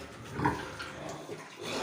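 A Landrace sow in a pigsty gives a short grunt close by, followed by quieter snuffling and rustling in the pen, with no talking over the sound.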